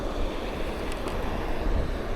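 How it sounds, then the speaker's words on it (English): Moving water pouring into a bigger lake in a desert town, heard as a steady, close, broadband rush that stays even throughout, mixed with some wind noise. "Weird to see like a spot with moving water that dumps into a bigger lake out here."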